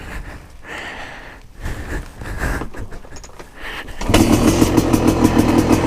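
A KTM 250SX dirt bike engine fires up out in the desert after a few seconds of quiet rustling, then settles into a loud, steady two-stroke idle with a rapid pulsing rhythm.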